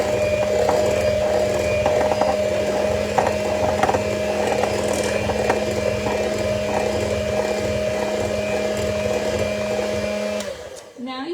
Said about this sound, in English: turn the actual mixer on to fully incorporate the dry.